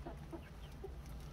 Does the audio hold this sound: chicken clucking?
yes